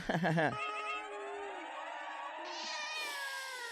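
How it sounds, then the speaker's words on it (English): A cat gives a short burst of yowls, then a long, drawn-out meow that stretches and rises in pitch, heard up close and fairly clear. "That was my cat. That's my cat, my air horn cat going."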